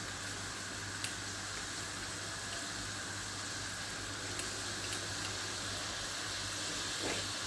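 Kashmiri pink tea leaves boiling in a pot of water for chai, a steady soft hiss and bubbling steam held at an even level throughout, with faint brief clinks.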